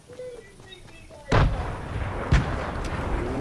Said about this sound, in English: Explosions, let's go!